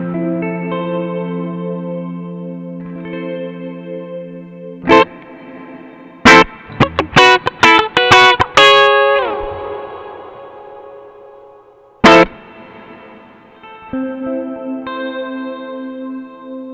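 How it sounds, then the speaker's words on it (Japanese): Electric guitar through a BOSS RV-6 reverb pedal set to dynamic mode: sustained chords with deep, spreading reverb tails, then a burst of sharp rhythmic strums whose ambience stays tighter, then lingering washed-out notes. "このダイナミックモードというのが演奏に合わせて効果の深さを自動的に設定するリバーブです"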